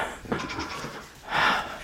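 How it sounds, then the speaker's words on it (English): Friendly farm goats in a muddy yard bleat close by: a short call early on, then a louder, longer bleat near the end, with quieter breathy noise between. "Friendly goats have their place, you guys."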